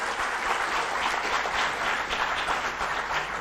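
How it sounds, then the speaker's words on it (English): Audience applause at an entrepreneurship technical session, steady dense clapping filling the room throughout without any talking. "Please give him a good round of applause."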